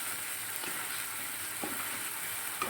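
Ginger-cumin paste fries over lowered gas in a pan with potatoes and pointed gourd, giving a soft, steady sizzle broken by a few light stirring scrapes.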